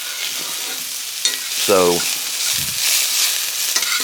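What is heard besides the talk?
shrimp stir frying in a pan on high heat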